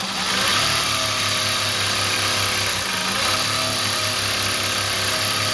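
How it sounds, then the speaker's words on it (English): An electronic industrial sewing machine runs fast and steadily, its motor making a continuous loud mechanical whir with a constant low hum and no pauses or speech. "You can sew one stitch at a time by just tapping with your toe, or you can sew very fast if you want."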